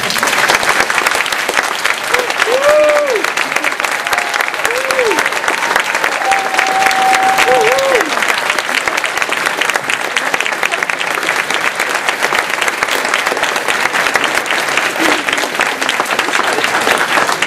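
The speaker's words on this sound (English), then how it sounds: "I think that round of applause spoke for itself." Sustained applause from an audience after a presentation, loud and even throughout, with a few faint voices calling out beneath the clapping.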